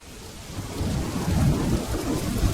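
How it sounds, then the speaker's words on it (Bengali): Steady rain pours outside in a cartoon scene, with a low rolling rumble of thunder swelling and fading beneath the constant hiss, no voices. "আরে এই যে বৃষ্টি শুরু হয়ে গেছে"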